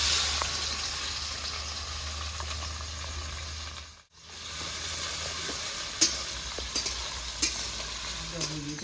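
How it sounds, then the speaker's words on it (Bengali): Four medium sliced onions frying in oil in a pan, a steady soft sizzle that cuts out briefly midway, then resumes with a few light clinks and stirring sounds. "আমি ঠান্ডা তেলে পেঁয়াজ, 4টে মিডিয়াম সাইজে পেঁয়াজ কাটলাম।"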